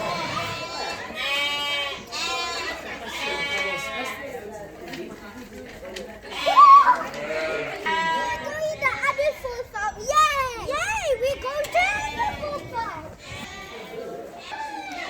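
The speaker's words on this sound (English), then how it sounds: "It's not the goat, it's the sheep." Sheep bleating at a family farm park, several high wavering bleats mixed with excited children's voices and chatter nearby, with one loud close bleat standing out midway.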